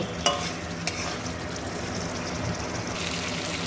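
Cauliflower and potato being gently stirred and sautéed with spices in a pan for a Bengali katla fish curry, a steady close sizzle with soft scraping and a couple of light clicks.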